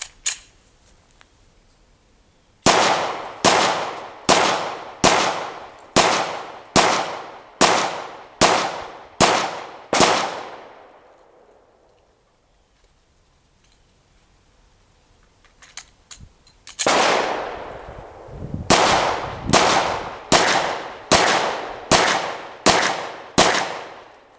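Sig Pro 2340 pistol fired with mixed hollow-point rounds: two strings of sharp, loud, evenly spaced shots, about nine in the first burst and eight in the second, each with a short ringing decay, separated by a quiet pause.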